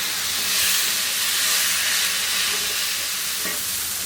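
Minced meat, about one and a half cups of keema with a little salt, sizzles and hisses steadily in a hot pan for a few seconds, loud and close, with no talking.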